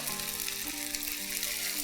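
Half a kilo of ground tomato paste fries in a pan with a steady, close, bubbling sizzle and no talk.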